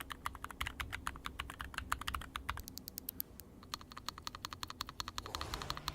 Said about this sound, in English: It's called the Field 75 by Newfie, and it sounds like this.